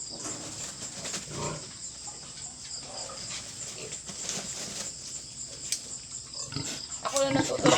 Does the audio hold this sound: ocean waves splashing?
no